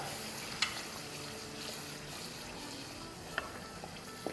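Spices stir-fry in oil for paya, a soft continuous sizzle with faint stirring and a few sharp scrapes of a spoon against the pan, quiet and close with no talking.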